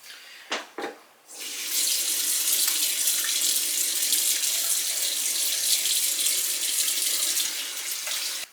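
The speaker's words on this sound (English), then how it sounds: "So I'm going to wash my face." A bathroom tap runs while someone washes their face, with a couple of short splashes first and then a steady, close rush of water flowing into the sink for several seconds.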